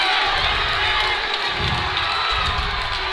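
Basketball crowd at a high school playoff game cheering loudly and continuously in a gym, the roar echoing through the building with swells of shouting and no break.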